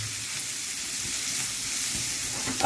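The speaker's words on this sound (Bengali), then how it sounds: "আমরা পেঁয়াজটাকে মোটামুটি ভালো করে ভেজে নেব, যাতে হালকা একটু তেল ছেড়ে দেয়" Onions frying in oil in a pan for a chicken and new-potato curry give a steady, close sizzling hiss that runs unbroken for the whole stretch with no voices.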